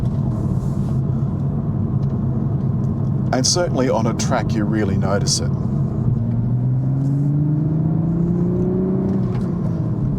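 Engine of a 2023 Toyota GR Supra with a manual gearbox, driven on a track, a steady throaty rumble that rises in pitch under acceleration, heard beneath someone talking inside the car.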